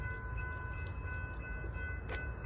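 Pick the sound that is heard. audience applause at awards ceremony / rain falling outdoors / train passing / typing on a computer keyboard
train passing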